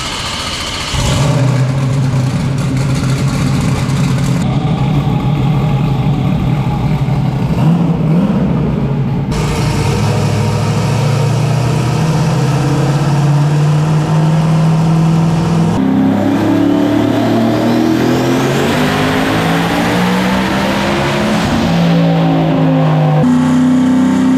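A methanol-fuelled Mustang race car with a 364 cubic inch Dart block revs hard on a dyno, its loud engine climbing through repeated pulls, easing back and then rising sharply again near the end, with no talk.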